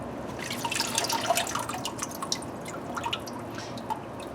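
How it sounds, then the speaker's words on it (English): Water drips and trickles from an orchid just dunked in a water bucket, a loose patter of small droplets falling close by with no voices. "now I can just dunk my orchids and go"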